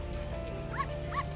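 A small chihuahua barks twice in quick succession, short yips at a dog grooming salon, over steady low background hum.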